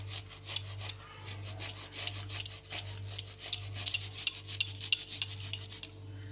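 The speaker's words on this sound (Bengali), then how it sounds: "গ্রেটার দিয়ে আমি গ্রেট করে নেব" Palm seed kernels scraped against a hand grater in a home kitchen, a repeated rasping stroke with a quick regular rhythm, close and fairly quiet over a steady low hum.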